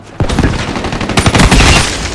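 Gunfire from the video game Black Ops 3 erupts in a loud, sudden burst, a quick string of rapid shots packed close together over about two seconds, heard alone without talk.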